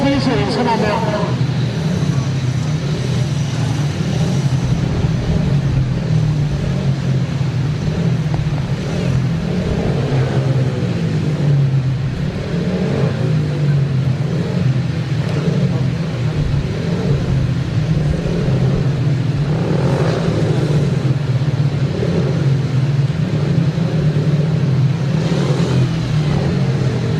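Speedway motorcycles at a National League meeting between Isle of Wight and Kent, engines droning and revving at a distance under loud crowd and announcer chatter throughout.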